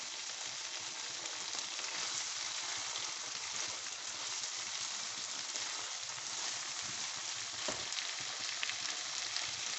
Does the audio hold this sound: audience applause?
no